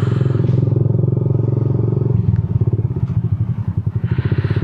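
A Yamaha New Jupiter MX motorcycle fitted with a DBS racing exhaust idles close by with a loud, deep, throbbing note, then drops into a choppy, pulsing, uneven rumble.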